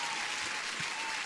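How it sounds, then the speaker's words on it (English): Applause greets viewers during a live futures day-trading session, a continuous even wash of clapping, fairly faint, with no pauses or talk across the brief span. "huge applause to Neskelp God and everybody"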